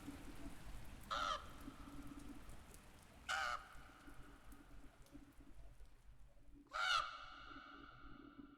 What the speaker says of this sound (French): c'était juste un petit corbeau